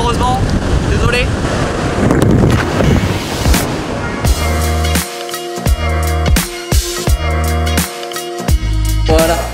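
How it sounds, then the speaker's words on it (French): Strong outdoor wind blows straight into the microphone with heavy, continuous roaring buffeting, loud and close throughout. "je crois que le son va être dégueu, il y a trop de vent"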